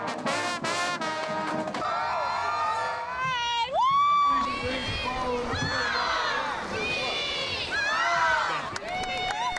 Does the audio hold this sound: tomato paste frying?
no